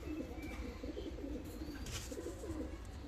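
Fancy costume pigeons cooing softly in a loft, low throaty coos repeating under a constant background hum, faint and close.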